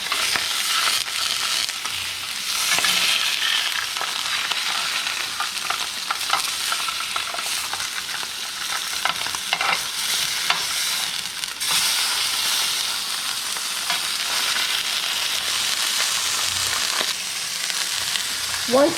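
Meat browning in a pan under a splash guard for Italian tomato sauce sizzles and crackles steadily and loudly, with stirring and scraping noises as the pieces are turned, and no talking.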